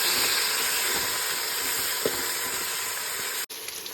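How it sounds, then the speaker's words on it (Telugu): Onions and mint frying in a pan for prawn biryani, a soft steady sizzle with a faint hiss and one small knock of stirring, ending in a brief break. "ఉల్లిపాయలు, ఇక పుదీనా ఇవన్నీ వేసుకొని వేయించుకోవాలి"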